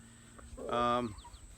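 A single meat chicken in a PVC chicken tractor squawks loudly and close by, a short harsh call rising over quiet background noise.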